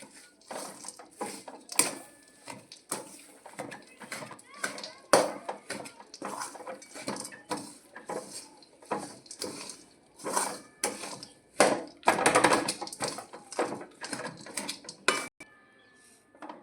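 Metal spoon scraping and clanking against a pan while mixing khajur pak ingredients, dates with roasted peanuts, in irregular bursts of clatter and scrapes with brief pauses between strokes, close and fairly loud.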